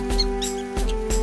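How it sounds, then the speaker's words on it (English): Short, high squeaky calls from a prairie dog standing watch near its burrow repeat several times over a steady low hum, at a moderate distance. "You may hear the barking of a tiny prairie dog standing watch near its burrow,"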